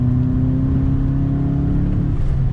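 A 2019 VW Jetta GLI S engine with a DSG gearbox drones steadily up close, its pitch holding then dropping slightly as the driver brakes and shifts down.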